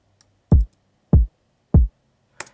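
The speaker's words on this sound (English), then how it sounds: "so what I did was I brought in a second kick" Second kick drum layered into a chill dance beat, with more knock on its top end: three punchy, short low thumps evenly spaced, followed by a brief faint click, heard alone with no talking.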